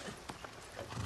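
Horse hooves clip-clop quickly in Far Cry 6, close and fairly quiet, mixed with a short whinny in a brief burst of game sound.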